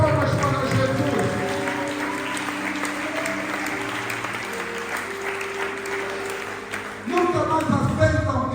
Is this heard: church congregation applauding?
yes